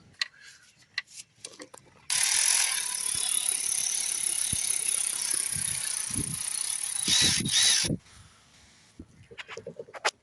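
Fast ratcheting clicks from a 1/4 inch ratchet with an 8mm socket working in a tight spot beside a plug on a Ford S-Max 2.0 TDCi, one long steady run of about six seconds, close and loud, with short bursts before and after.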